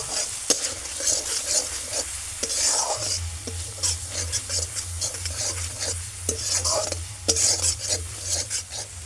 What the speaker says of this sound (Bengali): কাশ্মীরি লঙ্কা গুঁড়োটা দেওয়ার পরে ভালোভাবে একটু আমি মিশিয়ে নেব।